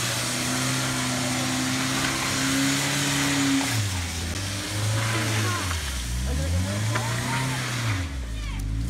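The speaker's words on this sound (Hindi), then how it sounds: "ये भी अभी फंस गई है गाड़ी" A car engine labors and revs in heavy snow at Kalam, Swat, its droning pitch rising and falling as the stuck car strains, loud and close, with voices talking over it.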